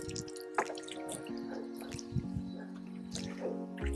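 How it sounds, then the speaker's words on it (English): A garden hose with its nozzle removed lets water run freely during a car wash, a steady close splashing and trickling flow with small drips, no voices. "we have the nozzle off the hose and we're just letting the water run out."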